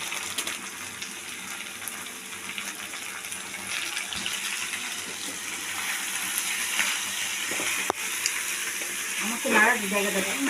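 Pasta fries in a pan with a steady hiss and sizzle while being stirred, scraping and clattering near the end, and a voice is faintly heard.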